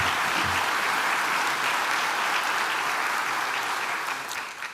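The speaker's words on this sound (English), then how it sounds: "Let's give the students a round of applause." Sustained applause from a crowd at a city State of the City address in Brownsville, steady and dense, tapering slightly at the end.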